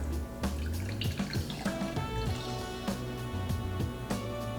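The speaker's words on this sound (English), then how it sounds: "I'm just going to pour it over the ice in my glass." Shaken whisky mule cocktail poured over ice in a glass, liquid splashing and trickling with clinks of ice, set against a steady tonal musical background.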